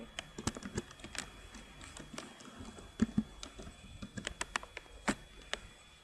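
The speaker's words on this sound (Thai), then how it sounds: "แล้วแต่ครับว่าจะพิมพ์คำว่าอะไร" Text is typed on a computer keyboard during Photoshop work: quiet, irregular key taps and clicks, close-up, with short pauses between bursts.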